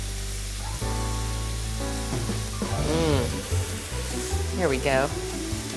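Onions and portobello mushrooms seasoned with steak seasoning sizzle steadily in a hot pan, a continuous close frying hiss running throughout while a person speaks briefly over it.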